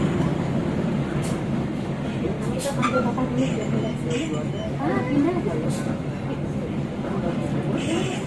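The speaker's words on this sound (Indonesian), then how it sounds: "Rupanya kita bersilang dengan kereta api Parsel Selatan yang mengalami keterlambatan cukup parah" A delayed Parsel Selatan freight train hauled by a CC 203 locomotive passes close by during a crossing. A steady broadband rail rumble and clatter runs throughout, with a faint murmur of voices underneath.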